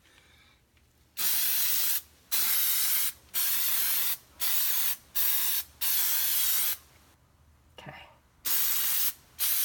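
An aerosol can of Plastidip sprays onto a license plate frame on a Corvette in seven or eight loud, hissing bursts of about a second each, separated by short pauses, with a brief spoken word in one gap.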